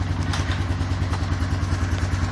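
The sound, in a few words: Honda Foreman 450 ATV engine running and shifting gears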